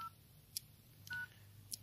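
Keypad tones from a Nokia 6700 Classic as a code is entered: three short, quiet electronic beeps spaced across a couple of seconds over a low background hum.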